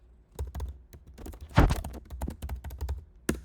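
Someone types on a computer keyboard to search for a song, a run of close, crisp key clicks in uneven bursts with one heavier keystroke in the middle and a final tap at the end, and no talking.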